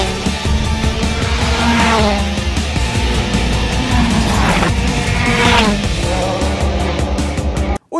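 Sebastien Loeb's Citroën DS3 WRC rally car roars close by with a loud, busy engine and tire noise, revving and shifting across the stretch before cutting off abruptly at the end.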